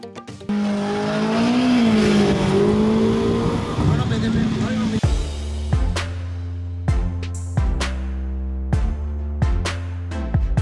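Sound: race car accelerating at a drag race

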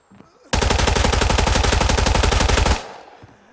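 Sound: gunfire from the video game Arena Breakout

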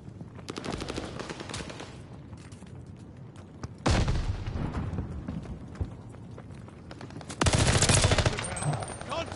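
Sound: gunfire in video game Call of Duty Vanguard

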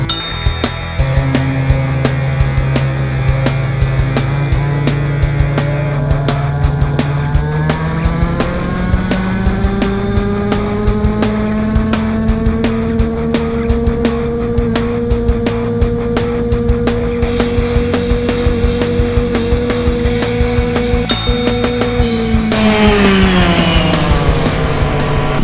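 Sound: fast non-electric petrol scooter engine while riding

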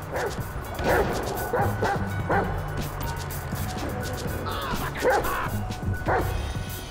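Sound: dog Chop barking in GTA 5 video game

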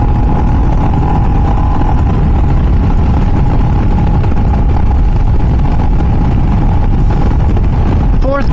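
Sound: 2024 Royal Enfield Himalayan motorcycle accelerating through the gears

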